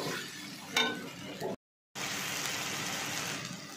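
Ground spice paste is stirred in a hot pan while cooking a fig (dumur) dish, giving a steady sizzle with light scraping, broken by a short silent gap before the frying resumes.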